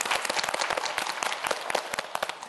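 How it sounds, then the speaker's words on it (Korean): A studio audience on a Korean TV quiz show applauds a student contestant, a dense burst of many hands clapping at close to moderate distance, steady and continuous with no talking over it. "우리 김시온 학생에게도 여러분 박수 한번 보내주세요"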